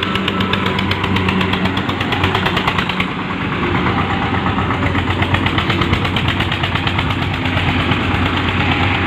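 The loud engine of an Eicher 241 tractor stuck under heavy load chugs steadily throughout with a rough, knocking rhythm, close by and unbroken, with no talking over it.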